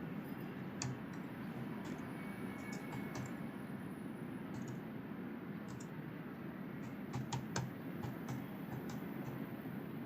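Computer keyboard keys tapped to enter login details, a steady run of light, scattered clicks over a constant low background hum.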